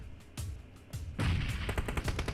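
Gunfire in the PUBG Mobile shooter, including an ACE 32 rifle, rings out as several sharp shots in quick succession, the later ones louder and more rapid, with no talk.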